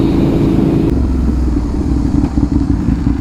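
A 2007 Aprilia RSV 1000R motorcycle engine runs loud and close, its raspy exhaust roaring steadily with a deep rumble and slight clattering throughout.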